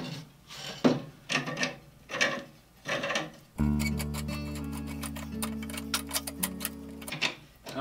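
Oiled turnbuckle on an old bow saw being worked loose: rhythmic rasping and scraping strokes, then a stretch of steady ticking clicks with a faint tonal hum, close up and without talk.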